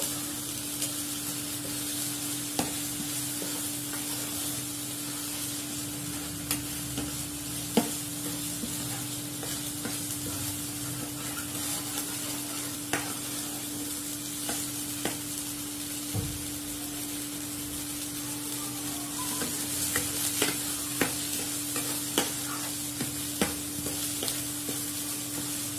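Chickpea masala for kurma frying in a pan, a steady soft sizzle with occasional sharp scrapes and taps of a spoon stirring, close and fairly quiet, no talking.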